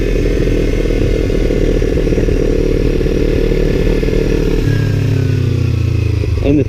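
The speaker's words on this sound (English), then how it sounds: "engine braking, like it has a bunch of engine braking for this little thing" A small 300-class motorcycle engine braking after downshifts as it slows, a loud continuous buzzing engine note that drops in pitch with a shift near the end; a voice talks faintly under it.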